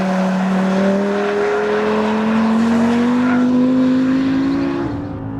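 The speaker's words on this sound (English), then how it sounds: "the Audi R8 V10 absolutely hauls" A 2014 Audi R8 V10 Plus accelerating hard on a race track, its V10 engine climbing steadily in pitch through the revs as a loud, continuous roar, heard from close by and then easing off at the end.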